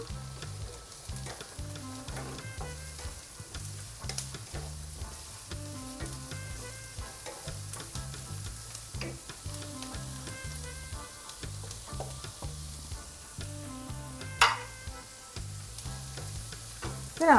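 Carrots and beans fry for vegetable fried rice, a steady close sizzle in the pan with scraping stir strokes recurring throughout and a brief clatter near the end.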